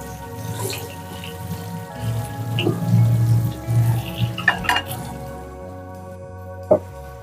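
Potatoes for aloo dum frying in hot oil, a steady crackling sizzle with scattered pops and brief louder spatters, close and alone with no talk.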